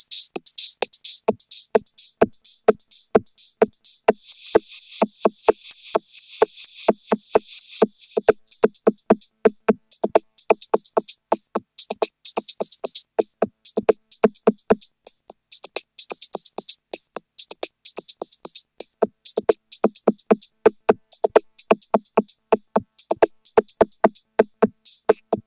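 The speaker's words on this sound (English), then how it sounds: "there's some envelope following going on all the drum sounds, and it creates a nice little extra effect for this funny little drum machine" A small drum machine pattern run through a Moog 16 channel vocoder with its hiss and buzz section engaged, producing a long, fast, steady stream of crisp, envelope-followed clicks and hits with a bright hissy top, loud and uninterrupted.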